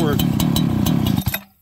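A Farmertec 288xp kit chainsaw on its first start runs at a rough, pulsing idle close by, then sputters and cuts out abruptly near the end.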